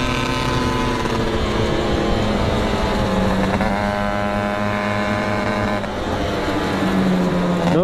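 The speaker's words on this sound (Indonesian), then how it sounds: "Tuh di belakang ini suara karbu." A carbureted motorcycle engine runs steadily close by, a loud rumbling drone with a few brief revs shifting its pitch.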